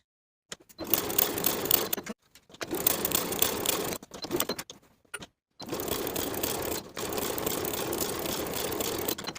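A sewing machine edge stitches a curved jeans pocket in short bursts of steady mechanical whirring, separated by brief silent pauses: three main runs close to the microphone.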